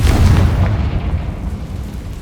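Confringo fire spell explosion in Hogwarts Legacy, a loud, close booming blast with a heavy low rumble that slowly decays over about two seconds, no voices.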